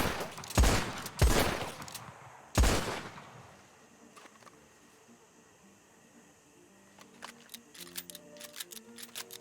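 Three sharp pistol shots ring out close and loud at a tree in a western roleplay game, spaced unevenly, followed by quieter clicks and faint ambient ticking with no voices.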